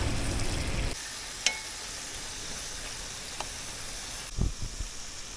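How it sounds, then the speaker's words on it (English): Moose sausage sizzles in a pan with a loud hiss that drops off early, then a steady frying crackle with a few clicks and clanks. "Moose sausage is frying in the pan."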